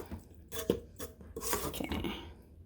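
Metal cutlery clinks and rattles against dishes as a spoon is picked out, a few close bright clatters in short bursts.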